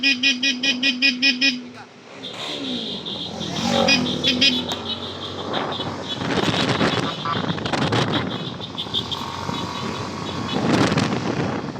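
Motorcycle engine on an open-category secret race course in Bayabas, loud and close with a pulsing drone that swells and holds, buffeted by heavy wind roar on the microphone.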